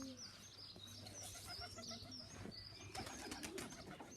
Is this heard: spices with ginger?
no